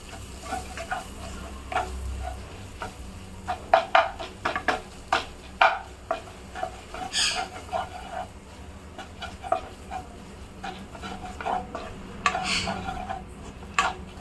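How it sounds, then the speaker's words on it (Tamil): Chili powder sautéed in a pan for egg thokku, with a faint background sizzle broken by frequent sharp clinks and scrapes of a utensil stirring against the pan. "மிளகாத்தூளையும் கொஞ்சம் பச்சை வாசனை போகிற அளவுக்கு வதக்குங்க."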